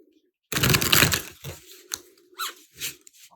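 Tarot cards being shuffled, a papery riffle and rustle near the microphone that starts abruptly and then breaks into a few shorter soft card flicks with pauses between them.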